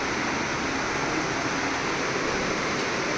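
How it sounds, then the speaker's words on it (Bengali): Dense, steady roar of heavy rain pouring continuously, loud and close, with no other sounds breaking through. "খুব জোরে বৃষ্টি চারিদিক অন্ধকার"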